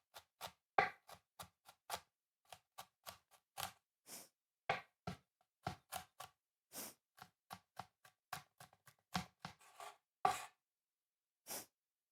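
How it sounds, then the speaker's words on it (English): A knife chops and dices ingredients for chuck roast chili on a cutting board, a steady run of sharp, close, fairly loud strikes with short pauses, one after another without talk. "be safe when you're prepping and chopping and all that kind of stuff"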